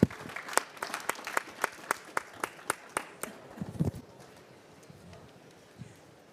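Audience applause for climate panelists at a COP29 farmers' dialogue session: a small crowd claps in a quick, fairly even rhythm for about three seconds, then fades into quiet room noise with faint stirring.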